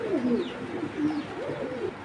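Soft, low cooing from pigeons, a few rolling calls close by against a faint background hum.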